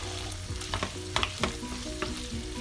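Onion going into lettuce already sautéing in a pan over the lowest heat, giving a steady soft sizzle with a few sharper stirring clicks and scrapes, close by and moderately quiet with no talking.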